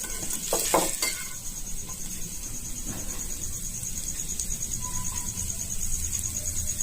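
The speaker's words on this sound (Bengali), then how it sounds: "একটু পেঁয়াজ বেরেস্তার সাথে যদি ভাজা যায় তাহলে হয়তো বা টেস্টটা ভালো লাগবে" Kebab pieces frying in a pan with fried onions (beresta), giving a steady, close sizzle throughout, with a few light stirring clinks near the start.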